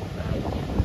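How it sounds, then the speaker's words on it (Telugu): Wind at Chirala beach buffets the microphone in a steady low rumble, loud and close for just under a second with no voices. "గాలి మాత్రం ఇంకా వస్తుందిరా"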